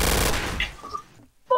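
Rapid gunfire in the Cyberpunk 2020 mode of a TTT video game, a dense burst of shots fading into scattered echoes before another sharp crack at the end.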